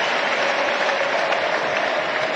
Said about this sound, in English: The great applause as well